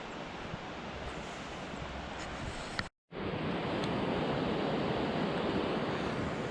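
Middle Fork creek running high and pushing hard, a loud continuous rushing roar of water with a brief dropout midway, then the steady torrent resumes.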